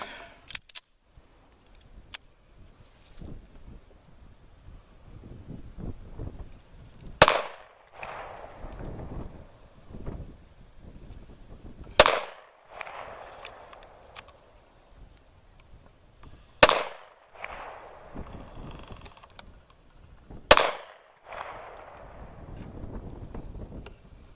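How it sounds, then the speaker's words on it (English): American Tactical 1911 GI pistol fired downrange at an outdoor range: four sharp, loud single shots spaced several seconds apart, each followed by a brief echo, with light wind noise between them. "All right, let's put some rounds downrange."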